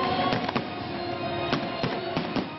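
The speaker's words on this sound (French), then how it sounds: "Les canons d'antan ont laissé la place aux feux d'artifice." Fireworks at the Inferno show in Waterloo, a string of sharp cracks and bangs at irregular intervals over a dense, continuous crackling wash, heard from a distance with no talk.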